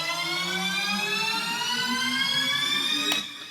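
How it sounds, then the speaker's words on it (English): A riser sound effect sample in a mashup: a bright, buzzing synthetic tone that sweeps steadily upward for about three seconds, loud and alone, then cuts off with a short click and fades. "there's a riser sound"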